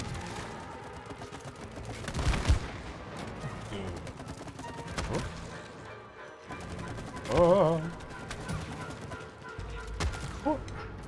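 Gunfire from guns in the co-op game It Takes Two, with bursts of shots and mechanical clanks popping irregularly over game music and background noise, the loudest blasts landing in a few distinct spikes.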